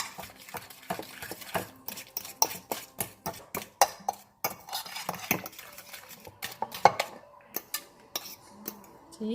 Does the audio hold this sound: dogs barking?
no